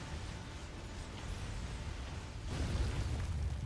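Destructible rocks crumble under attack in StarCraft 2, making a steady noisy rumble of breaking and bursting that swells louder toward the end, heard at a moderate, slightly distant level with no voices.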